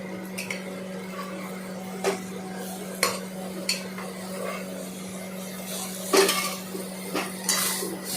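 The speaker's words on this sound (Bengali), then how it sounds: "ভালো করে নাড়াচাড়া করলাম" A spoon stirs boiled peas in a pan for ghugni, scraping and clinking against the metal now and then over a steady low hum and a faint sizzle.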